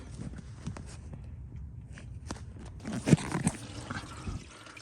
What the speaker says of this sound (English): Right now the oil is draining.